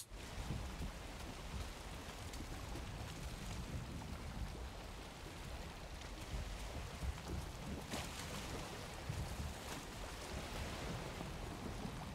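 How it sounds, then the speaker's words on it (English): A boat sails across open water in the video game Valheim, with a steady broadband rush of wind and splashing water that holds constant throughout and has no talking. "I like your little sound effects because it sounds like I have a low power engine."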